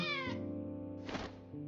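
A cat meows in the Another Eden role-playing game: one drawn-out, clearly pitched mew followed by a shorter second call, close and distinct with faint game ambience underneath.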